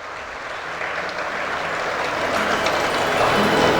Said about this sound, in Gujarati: જોરદાર તાળીઓથી વધાવીએ છીએ.